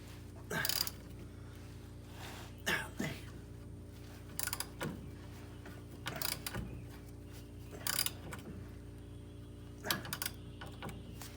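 Torsion bar keys being turned out on a Dodge Charger front suspension, heard as a series of sharp metallic ratcheting clicks in spaced bursts about every two seconds over a low steady hum, close by in a garage.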